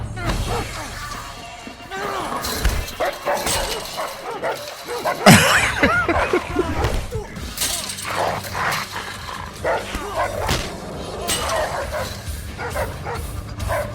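A dog barks, yips and whimpers in an action film scene, loud and close over a busy, crashing background with some voices.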